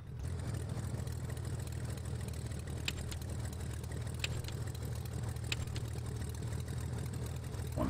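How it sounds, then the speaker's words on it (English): Small airplane engine idling steadily in the X-Plane 10 flight simulator, a low continuous drone held at a constant level throughout, with no talking. "Try to get this throttle set so the engine won't die."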